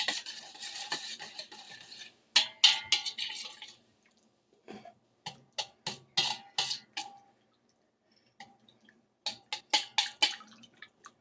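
Whisk clattering against a bowl while bean bread dough ingredients are beaten together, in bursts of quick rhythmic strokes with short pauses between, close and fairly loud.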